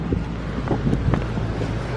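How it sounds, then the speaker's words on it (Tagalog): Strong wind buffets the microphone in a continuous low roar, with gusty rumbling and faint thumps throughout. "Grabing lakas ng hangin. Naririnig nyo?"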